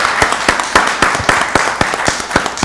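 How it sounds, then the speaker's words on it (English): At a Rockdale County Board of Commissioners meeting, a small audience gives a round of applause, with distinct, rhythmic claps at a steady pace that sound close and fairly loud. "let's give all of our donations a round of applause"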